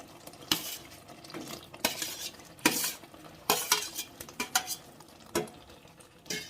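Whole eggplants and potatoes are stirred into gravy in a pan. A spoon scrapes and clanks against the pan in close, irregular bursts over a faint simmer, with no talking.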